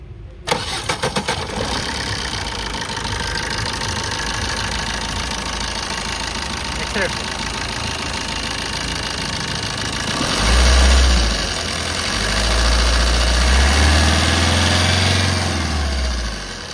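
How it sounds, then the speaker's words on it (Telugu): A 2013 Maruti Swift Dzire VDI diesel engine cranks and catches at the start, then idles with a steady, slightly knocking rumble that swells briefly later on. "ఇంజన్ అనేది స్టార్ట్ చేయించి చూపించడం జరిగింది"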